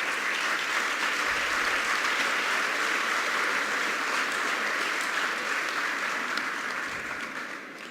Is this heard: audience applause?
yes